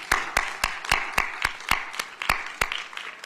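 Sparse, steady clapping from a small audience at a Washington, DC mayoral event, individual claps evenly spaced and fairly faint, with no talk over them.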